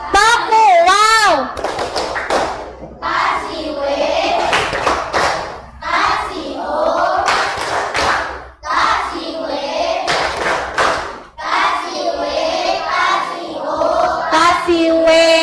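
A class of children performs a rhythmic clap chant, with bursts of hand claps and taps mixed with loud, lively children's voices chanting and shouting throughout.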